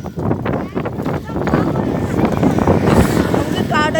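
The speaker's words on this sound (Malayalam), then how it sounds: "അതൊരു കാറ്റാണ് ഗൈസ്" Strong wind roars and buffets the microphone at a beach, a loud steady rush throughout with voices talking over it and the sea nearby.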